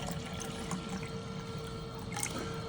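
Water pours steadily into a vintage plastic Regal portable coffee percolator, a continuous close trickling fill at moderate volume with no speech.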